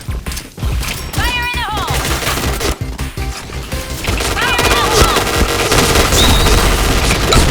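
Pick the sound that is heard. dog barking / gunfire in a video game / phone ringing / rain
gunfire in a video game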